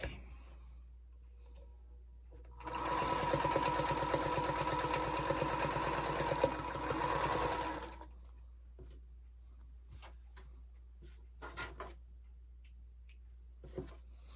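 A sewing machine stitches a charm pack quilt block in one burst of about five seconds of rapid, steady mechanical whirring, followed by quiet with a few faint clicks and handling noises.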